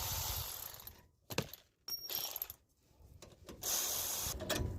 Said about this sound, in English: First, start by removing two 10mm bolts on the brake caliper.